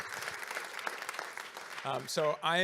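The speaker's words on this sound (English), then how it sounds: "maybe we can give you another round of applause" Applause from a conference audience fills most of the stretch, a dense steady patter of many hands that gives way near the end to a raised voice cutting in over the last of the clapping.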